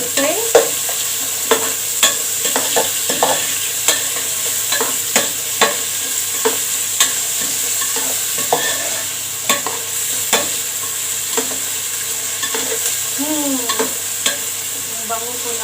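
Garlic, onion and butter stirred in a hot pan with chicken cubes: a steady sizzle runs throughout, broken by regular scraping clicks of the spoon against the pan, close and fairly loud, with no talking.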